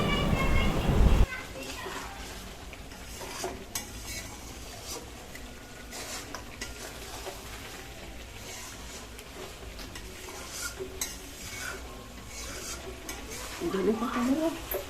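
Country chicken kosha mangsho being stirred in a pot, with soft scraping and faint sizzle running steadily under background voices and household noise, starting after a louder burst at the opening.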